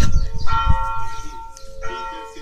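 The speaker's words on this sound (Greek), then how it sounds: "Η καμπάνα είναι 12 η ώρα." A church bell rings at noon near a home, with a few resonant struck tones sounding over low rumbling background noise.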